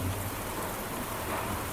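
Steady rainfall pattering on surfaces, a soft even hiss with dense drops, moderately quiet and continuous with no voices.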